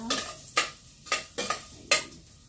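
Ginger sizzles in a pan on a home dirty-kitchen stove, broken by five sharp stirring scrapes in an uneven rhythm, close and moderately loud.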